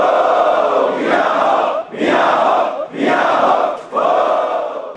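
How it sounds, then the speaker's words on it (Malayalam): A large crowd at a temple festival in Kerala gives loud, full-throated cheers in four long surges with short breaks between them, the roar close and continuous. "തുടർന്ന് ആർപ്പുവിളികളുമായി 3 പ്രാവശ്യം ക്ഷേത്രം വലം വെച്ചു."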